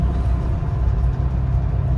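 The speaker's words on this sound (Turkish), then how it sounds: "Şu an otobüsteyiz" Steady low rumble and road hiss from inside a bus travelling by road into Liechtenstein in winter, a constant engine drone with no talk or distinct events.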